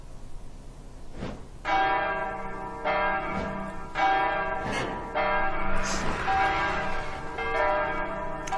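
A church bell tolls repeatedly in the video game Silent Hill Downpour, about seven loud metallic strikes at roughly one-second intervals, each ringing out with a long resonant hum that overlaps the next.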